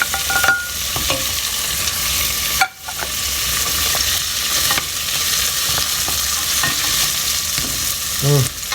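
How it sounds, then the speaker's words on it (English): Garlic is stirred into carrots sautéing in a pan for Greek yellow split pea fava: a loud, continuous sizzle with repeated scraping and stirring strokes and a brief pause partway through. "So the carrots have been cooking for a few minutes. I'll add the garlic."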